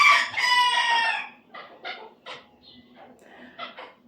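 A rooster crows loudly and close by in one long call, followed by softer clucks and short fowl calls.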